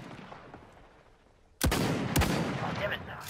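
Video-game gunfire from a chicken-themed shooter: two sharp, loud shots about half a second apart cut in after a stretch of quieter ambient noise, with a sustained rumble trailing behind them.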